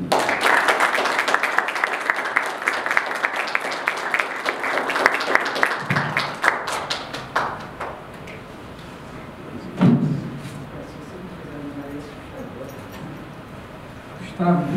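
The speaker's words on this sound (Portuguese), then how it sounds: "vamos aplaudir Marisa Gandemann." An audience at a workshop applauds a speaker being introduced, dense clapping for about seven seconds that thins out, followed by shuffling and room noise with a few distant voices.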